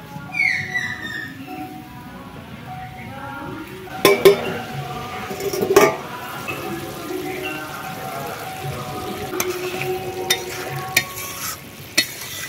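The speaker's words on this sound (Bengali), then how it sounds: "ঝোল ফুটে গেছে, এবারে দিয়ে দেবো ভেজে রাখা মাছগুলো" Fried Dover sole pieces are added to a boiling masala gravy in a village-style kitchen, giving a low steady simmer with a few sharp clatters of utensil against pot around the middle and some scattered knocks later.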